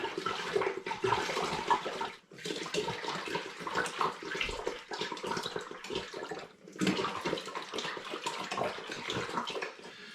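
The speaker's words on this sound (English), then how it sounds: "I'm going to add a further 6 litres of spring water, if the pan will take it" Spring water pours steadily into a large 10-litre pan, a continuous rushing splash with brief pauses as the flow is interrupted, close and fairly loud with no voices.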